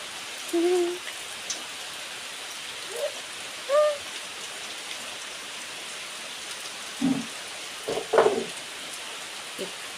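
Heavy rain pours in a constant, dense hiss, with a few brief faint calls and knocks rising above it.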